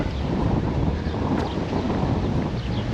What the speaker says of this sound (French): Forcément que ça tape avec le vent.